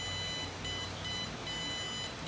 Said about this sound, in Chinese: 这个警报声的优点就是够大声，听起来 够紧张